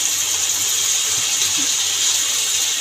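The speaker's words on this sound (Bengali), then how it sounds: "এবার মশলা দেওয়া জল দিয়ে দেবো।" A steady gush of water pours into a pan of frying spice paste for a fish curry, a loud, constant hiss that fills the whole short moment without talk.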